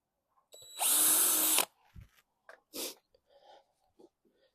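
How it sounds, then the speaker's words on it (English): A power drill fitted with a very small bit bores into a fig tree branch in one loud whirring burst of about a second, followed by quiet handling noises and breaths. "Get the smallest drill bit you can find."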